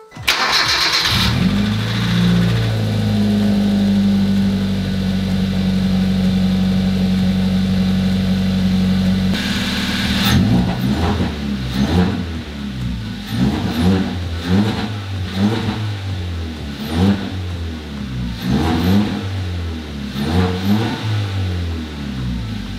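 A car engine cranks and catches, idles steadily for several seconds, then revs up and down repeatedly in close, loud bursts.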